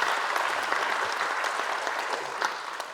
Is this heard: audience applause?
yes